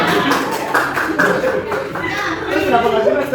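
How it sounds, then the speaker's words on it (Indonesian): An audience claps together in a classroom-style session, a dense patter of applause mixed with light chuckles and chatter throughout. "Jadi kita beri tepuk tangan dulu ya."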